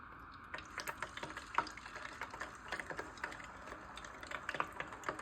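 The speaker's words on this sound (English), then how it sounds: "it's bubbling around the chicken, and you can hear that sizzle" A chicken wing fries in hot grease with a quiet, steady sizzle. Fine crackles and small pops come through close but faint, bunching together at moments.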